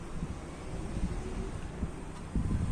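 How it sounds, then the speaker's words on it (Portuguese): Strong wind buffeting a microphone outdoors, a steady low rumbling roar with gusty bursts, loudest near the end, no voices. "aqui está um vento, uma ventania muito grande aqui"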